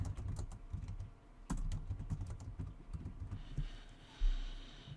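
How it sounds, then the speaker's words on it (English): Typing on a computer keyboard, a steady patter of keystrokes with a few heavier taps, close and fairly quiet, with no voices. "just type in some sample text here"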